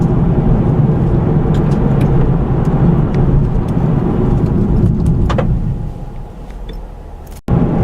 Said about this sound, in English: the wheels and tires make a lot of rumbling noises on rough pavement